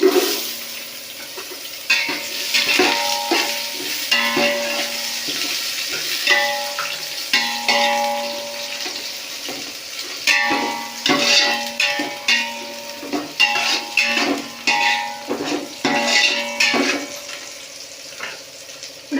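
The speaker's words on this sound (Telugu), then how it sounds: "ఇది వేగినాక ఉల్లిపాయలు కూడా వేసేసుకోవాలి." Cashew nuts fry in a pan while preparing mushroom biryani, with a loud, close, surging sizzle and hiss punctuated by metallic clinks and scrapes of stirring.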